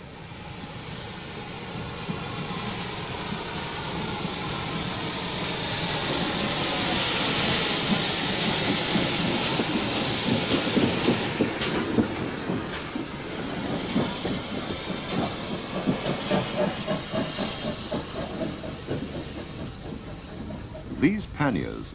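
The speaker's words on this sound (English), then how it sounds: "5700 pannier tank, an example of the most numerous class of Great Western engine" A GWR 5700 class pannier tank steam locomotive working on a preserved railway, with steady hissing steam and rumbling chuffs, followed by rhythmic clanking wheels and carriages rolling past. A narrator speaks over it.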